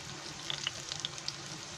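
Big green chilies frying in oil on low heat, a soft, quiet sizzle with a few small crackles and pops scattered over a faint steady hiss.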